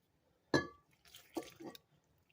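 Filtered water poured into a container for an einkorn flour sourdough starter, a short splash followed by a couple of softer trickling pours and drips, close and quiet in an otherwise still kitchen.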